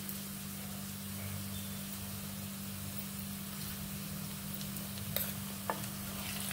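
Ginger and garlic paste frying and being stirred in a pan, a steady close hiss under a constant low hum, with a couple of sharp utensil clicks near the end and no voices.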